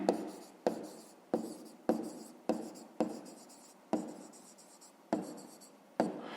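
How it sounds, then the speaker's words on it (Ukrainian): A pen writing during a math exercise: a close, quiet run of scratchy strokes, each starting with a tap and fading, coming about every half second to second, with no voices. "давайте я тут запишу"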